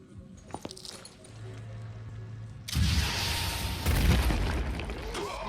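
A rocket explodes in a video game: a sudden loud, broad boom hits midway and rolls into a sustained rumbling blast, with a second surge shortly after, following quieter clicks and game sounds.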